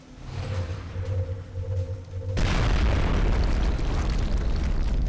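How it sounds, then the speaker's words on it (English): A rocket detonates among a tight cluster of enemies in the strategy game XCOM Enemy Within, a sudden loud boom that cuts in partway through and leaves a dense, sustained rumble of debris and fire ringing out to the end. "The explosion kills all but the Sectopod and the Berserker."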